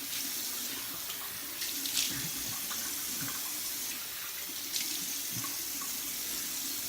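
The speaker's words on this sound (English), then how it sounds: "I'm gonna let this water run a little bit." Water from a tap pours steadily into a sink during a wet shave, a constant close splashing rush with small shifts in tone.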